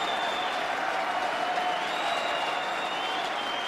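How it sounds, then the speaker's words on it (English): A crowd cheering and applauding at a table tennis match, a dense, continuous roar of clapping and shouts with no break, loud and sustained. "Man, the crowd is going crazy."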